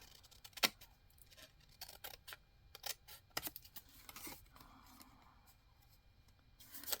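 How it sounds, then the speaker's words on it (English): Scissors snipping white paper off a page for a pink Christmas journal: a few faint, sharp cuts and clicks spaced irregularly in a quiet room. "And then I think I'm going to first try to cut this white off here"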